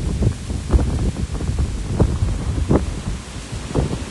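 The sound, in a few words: strong wind blowing outdoors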